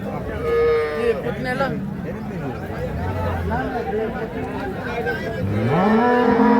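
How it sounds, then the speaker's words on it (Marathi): Jersey and Western breed cows mooing repeatedly at a cattle market, long low drawn-out calls from several animals, with background chatter of a crowd. "या ठिकाणी वेस्टर्न आणि जर्सी जातीच्या मोठ्या क्वालिटीच्या गायी आहेत"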